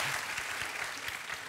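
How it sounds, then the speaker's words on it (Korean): Brief, dense applause from a studio comedy audience, steady clapping at moderate distance throughout. "박수 주세요."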